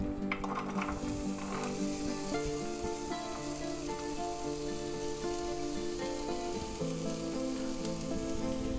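Chopped onions frying in oil in a pan, giving a steady, loud, continuous sizzle with faint crackles throughout and no talk.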